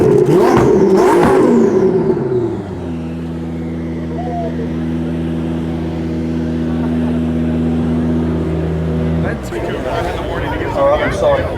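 A 1000-horsepower rear-wheel-drive Lamborghini Huracan revs hard and loud up close, then settles into a steady high idle drone for several seconds before another sharp blip.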